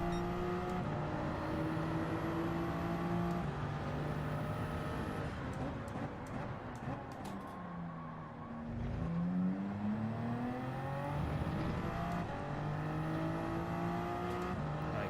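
Race car engine lapping Spa in Gran Turismo 7, a strong sustained roar with rising gear pulls, a sharp dip and braking downshifts midway, then hard acceleration again, no speech.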